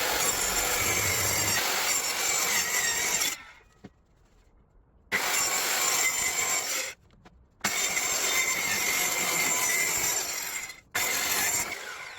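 A hand saw cuts through a piece of wood in long steady rasping strokes, three loud close bursts separated by short pauses.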